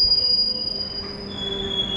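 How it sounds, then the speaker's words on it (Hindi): The Koshi Super Express pulls out of Hatia railway station, its wheels squealing in a steady high, sustained whine over a low rolling rumble of the train. "राइट 5:55 पे हम डिपार्चर हो चुके हैं हटिया रेलवे स्टेशन से"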